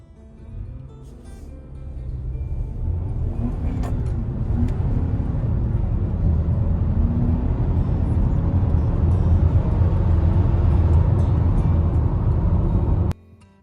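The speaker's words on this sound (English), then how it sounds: "Acceleration test." Haval H6 2.0T third-generation SUV under hard acceleration, a deep engine rumble swelling from a low start into a sustained loud roar heard from inside the cabin, cutting off abruptly at the end.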